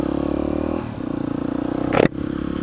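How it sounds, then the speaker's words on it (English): Yamaha WR250X dirt bike engine running steadily close by, a sustained buzzing drone with a brief rising rev and clattering burst near the end before settling back to a steady idle-like hum. "Man, it feels good to be back on the bike."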